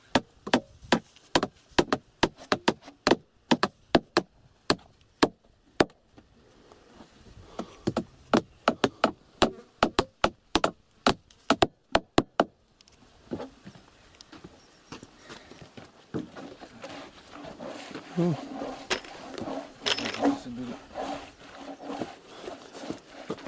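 Nails being hammered into wood by hand at a northern pond worksite, a long run of sharp, evenly spaced blows close by for about twelve seconds, then stopping as louder outdoor activity and rustling take over.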